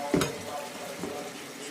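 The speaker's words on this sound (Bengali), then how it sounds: "নাড়াচাড়া করে ঢেকে দেব।" Vegetables are stirred in a cooking pan, a short close scrape and clatter of a utensil against the pan at the start over a soft background sizzle.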